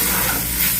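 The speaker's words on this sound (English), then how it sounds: "Saute these shallots just until they're nice and translucent, slightly caramelized" Shallots sautéing in butter in a pan, a steady, close sizzle and hiss over a short moment, with no talking.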